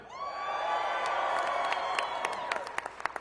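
Large crowd cheering, whooping and applauding at a GOP primary victory rally in Georgia, a sustained roar with shouts building, then sharper individual claps and whoops standing out near the end.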